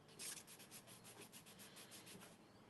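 Paint being scraped across a mixed media artwork, a soft, rhythmic series of rasping strokes, close and fairly quiet, about a dozen even passes with no talk.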